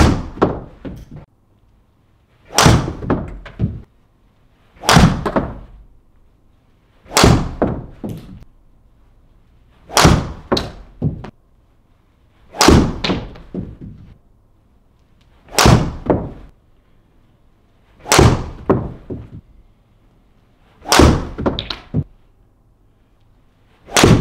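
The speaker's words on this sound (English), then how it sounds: "So that's Finn just hitting 10 shots with the regular flex shaft" A golf driver with a regular flex shaft striking balls, about ten sharp impacts spaced a couple of seconds apart, each a loud crisp crack that fades quickly, with nobody speaking.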